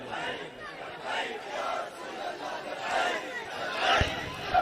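A large crowd at a religious gathering shouts a slogan together in call-and-response, loud overlapping voices rising and falling in a few waves, with a brief thump near the end.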